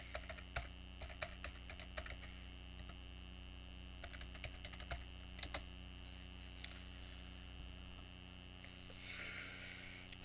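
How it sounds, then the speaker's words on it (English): Login typed on a computer keyboard, scattered quick key clicks in short bursts over a faint steady hum, quiet and close with a sniff, no talking. "We type in our login."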